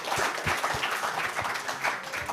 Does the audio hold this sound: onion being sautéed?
no